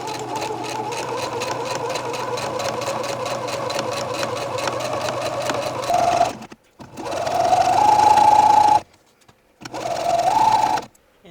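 A sewing machine stitches a seam on a pink wrap dress, running steadily with a fast, even needle rhythm, then in two shorter bursts separated by brief pauses. The machine is close and loud.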